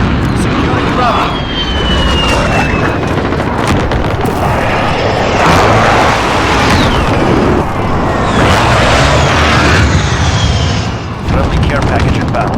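Repeated heavy explosions from a precision airstrike crash across a Call of Duty Modern Warfare battlefield, with jet flyby whooshes, scattered gunfire and radio voice callouts under dense, continuous combat noise.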